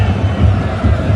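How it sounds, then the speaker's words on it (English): Crowd at a women's Champions League football match between AS Roma and Barcelona at the Stadio Fontane, a steady distant hubbub of many voices with low rumble throughout, no individual cheer standing out. "A sizable crowd here at the Stadio Fontane."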